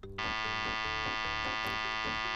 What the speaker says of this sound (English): I think your alarm needs work.